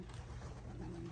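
Racing pigeons at their loft give a steady, low murmur of cooing that runs continuously through the short moment, close and moderately loud, with no talking over it.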